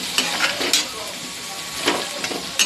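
Chopped onion sizzles in a hot pan, a close, steady frying hiss broken by a few sharp bursts as it is stirred and spattered.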